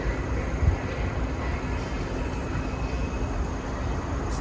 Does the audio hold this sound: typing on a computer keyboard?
no